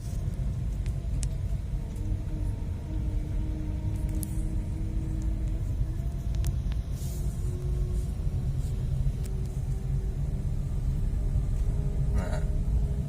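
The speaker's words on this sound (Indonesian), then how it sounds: "untuk menambah kecepatan kita tinggal injak gasnya ya. Nah, otomatis kecepatan akan bertambah." A car engine hums with a steady low rumble from inside the cabin as the gas pedal is pressed, the tone climbing gradually as speed builds, with a few faint clicks.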